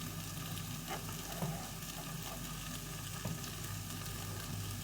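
Onions and mushrooms fry in a pan, a steady close sizzle with occasional soft stirring scrapes and small pops, alone without talk.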